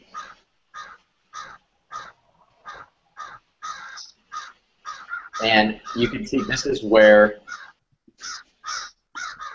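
A crow caws over and over in a steady rhythm of short, harsh calls that run through the whole stretch, while someone talks loudly over the middle part.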